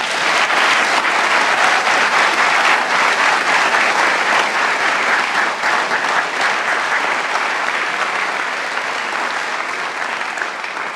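A large audience at a college convocation applauds continuously, a dense sustained wash of clapping that stays strong throughout and eases only slightly toward the end.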